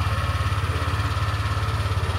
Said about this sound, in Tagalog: start natin yung motor